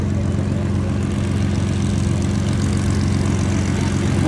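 A Supermarine Spitfire propeller fighter at an air show at Hradec Králové airport, its engine a steady, loud drone with a rich low rumble held throughout, no voices over it.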